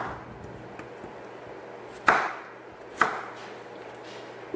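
Knife slicing potatoes into wedges on a kitchen board, two sharp chopping thuds about a second apart over quiet room tone.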